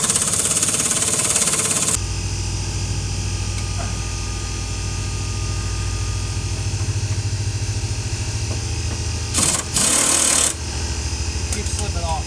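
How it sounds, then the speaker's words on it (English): A steady mechanical drone from tool work on the suspension of a Honda Element, where an impact driver removes a sway bar link, runs continuously with a brief louder burst near the end. "trying to use a pair of Vise Grips to hold it while my dad takes it off with the impact driver"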